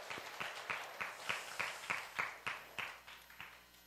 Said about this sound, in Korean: 우리 박수로 우리 격려하겠습니다